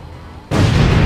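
Sudden loud blast from the flagon weapon in the game Terraria, cutting in halfway through and holding as a dense, booming roar of gunfire.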